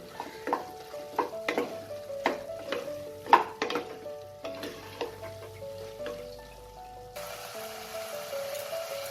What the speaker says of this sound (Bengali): এবার আমি এটাকে মিশিয়ে খুব ভালো করে এটাকে কষিয়ে নেব।